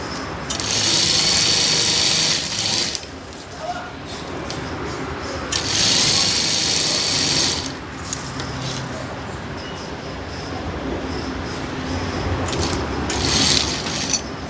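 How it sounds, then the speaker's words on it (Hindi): A sewing machine runs in loud bursts while stitching saree fabric with elastic, a steady mechanical whir that starts and stops three times over a constant background hum. "एक सिलाई मार लीजिए आप।"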